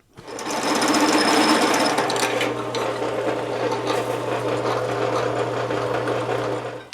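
A steady mechanical whir and grinding buzz of a drill press cutting holes in metal core support mounts for a rat rod, continuous and close, with a constant low hum throughout.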